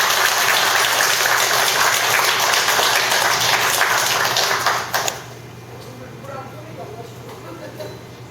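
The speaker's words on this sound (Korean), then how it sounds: "큰 박수로 일단 부탁드리겠습니다" A crowd applauds loudly and steadily for about five seconds, then the clapping cuts off, leaving quiet room noise.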